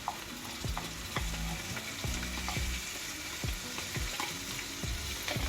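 Ginger and garlic paste frying with spices and salt in a pot for a thick mutton or lamb samp and beans curry. It gives a steady close sizzle, broken by repeated scraping stir strokes about once a second.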